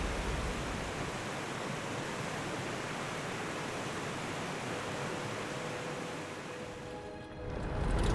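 Sissu waterfall roars as a dense, loud, unbroken rush of falling water, heard close and alone, with a brief dip near the end.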